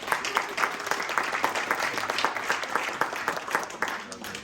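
A conference audience applauds the event organizers after a talk on trust in agile teams, a dense sustained clapping that fills the room, close and loud from start to finish.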